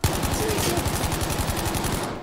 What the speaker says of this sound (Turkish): Kim lan o bana sıkan?